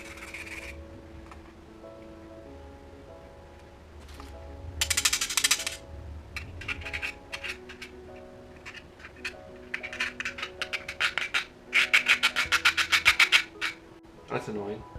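Citrus rind is scraped over a grater for zest in a linguine and clams kitchen, with short bursts of rasping strokes that grow into a quick rhythmic run, heard alongside a voice and background tones.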